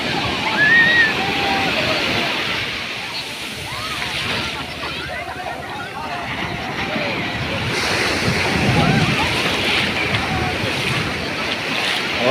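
Waves break and wash continuously on a beach near a temple, with wind buffeting the microphone and faint voices in the background.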